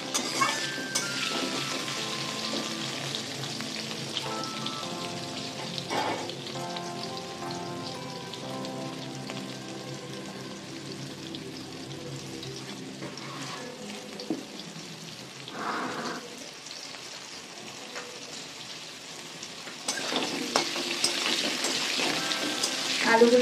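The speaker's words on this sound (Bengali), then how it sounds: "আলু কটা একটু লাল লাল করে ভেজে নেব।" Potato pieces fry in a pan until reddish, making a steady close sizzle and crackle like light rain, with a few utensil clinks and a louder burst of spattering near the end.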